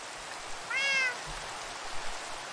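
A single short, bright meow from a cat in Minecraft sounds once over a steady wash of rain-like background hiss, with no talking.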